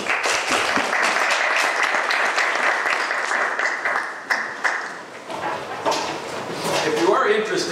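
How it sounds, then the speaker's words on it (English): A warm round of applause from a conference audience welcomes a guest speaker at a peace builders' conference, steady dense clapping that dips briefly midway and then swells again, with some voices underneath. "let's give a warm round of applause to our guest"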